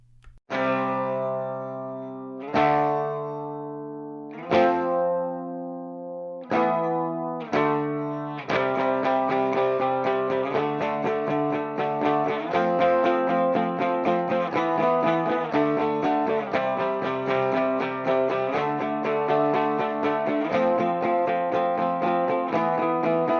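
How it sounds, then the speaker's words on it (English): Clean electric guitar played through an ML Sound Lab ML800 amp modelled on a Marshall, using the modern clean preset with a bright single-coil character: a few ringing strummed chords, then continuous strumming, loud and alone. "That one to me kind of sounds more of like a Strat, you know, that single coil type of pickup"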